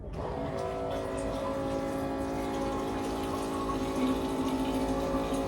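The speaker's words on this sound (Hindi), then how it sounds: "पानी भरने को लगा देती हूँ।" Water running from a tap or pump into a container at home, a steady, continuous rushing hum close by with no talking.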